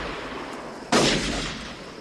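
A single loud gunshot from the 1992 western Unforgiven cracks out partway through, booms and echoes over a steady background hiss, with no talking.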